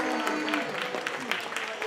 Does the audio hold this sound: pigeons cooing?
no